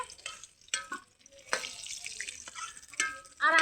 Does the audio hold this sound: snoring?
no